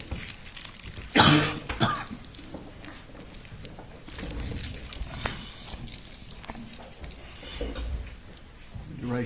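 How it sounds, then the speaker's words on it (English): A person with a bad cough in a courtroom coughs and clears the throat in one harsh burst near the start, followed by quieter rustling and murmuring. "I got a bad cough"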